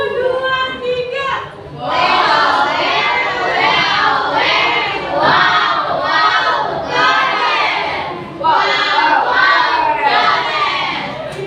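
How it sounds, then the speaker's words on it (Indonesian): Classroom audience clapping together on cue, a dense burst of applause mixed with children's shouts and cheering, repeated in loud waves for about ten seconds. "Kita tepuk tangan dulu."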